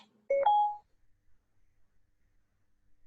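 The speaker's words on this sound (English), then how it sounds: "That was my phone. Siri decided to turn on." A phone gives a short electronic two-tone chime as Siri switches on, a single clear beep close by followed by near silence.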